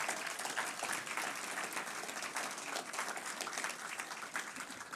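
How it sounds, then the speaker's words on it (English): A crowd at a branding reveal press conference in Oklahoma applauds team captains with a steady, fairly faint spread of clapping that continues evenly throughout. "some of our team captains who definitely deserve a round of applause"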